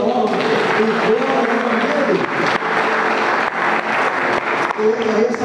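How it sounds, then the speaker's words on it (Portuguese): Church congregation applauding at a Portuguese-language service, loud and close, with a dense spread of clapping and voices running through the whole stretch. "Você pode aplaudir o nome dele para lá,"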